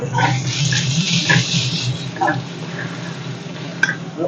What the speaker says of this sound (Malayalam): ഇപ്പം ഞാനിവിടെ ഉള്ളി വറ്റിക്കൊണ്ടിരിക്കുകയാണ്